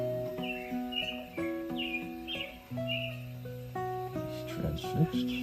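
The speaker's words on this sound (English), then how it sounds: "We found out that the robins learn their calls from other robins, so we thought it was time for some online learning." Recorded robin calls played back to a rescued robin: high chirps and whistled notes repeat in short phrases over steady tonal background sound, with no talking.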